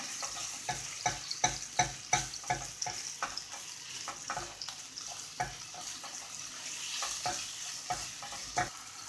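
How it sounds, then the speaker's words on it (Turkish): Sautéing in a pan with salt added, for a Kayseri yağlaması dish: a steady sizzle runs throughout while a utensil scrapes and taps against the pan in frequent sharp, irregular strokes, close and fairly loud, with no talking. "Bu şekilde biraz kavuralım."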